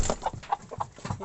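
Chickens cluck repeatedly on a village poultry farm in Africa, a close, busy run of short fowl calls in uneven rhythm with no voices over them.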